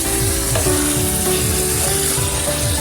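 Meat sautéing in a pan, a loud, continuous close sizzle with quick rhythmic scraping strokes of a spoon stirring throughout, no voices.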